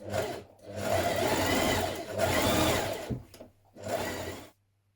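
A sewing machine stitches lining pocket pieces for a fitted Butterick 6446 dress in several steady, whirring runs, pausing briefly between passes before stopping.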